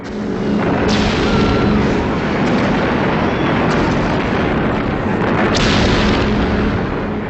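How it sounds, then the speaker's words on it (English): Heavy, rumbling explosions roll continuously with sharp bursts as bombs fall during a 1944 Allied air raid on Tokyo, loud and dense with no speech. "In November of 1944, Allied bombing of Tokyo began."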